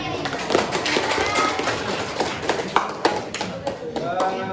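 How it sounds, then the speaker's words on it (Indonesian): Students clap together in a classroom, a scattered patter of hand claps with uneven taps, fairly close and moderately loud, while voices murmur underneath. "Tepuk tangan"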